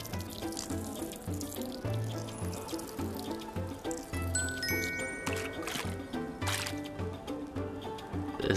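Water and wine poured into a vessel in the VR cooking game Lost Recipes, steady liquid trickling and splashing over layered background music and soft interface tones.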